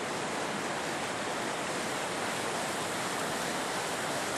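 Steady broadband rush of river water flowing along a highway-side bank during a salmon run, continuous and even with no pauses and no voices.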